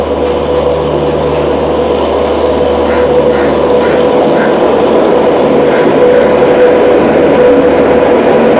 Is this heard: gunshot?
no